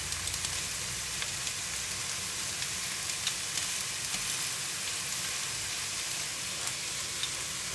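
Shrimp fry in a hot pan with a steady, dense sizzle and crackle that runs evenly throughout, close and continuous with no talking.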